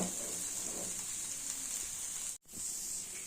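Rava dosa frying in oil on a hot pan, a steady, even sizzle that hisses on without pause, briefly cut off for a moment near the end.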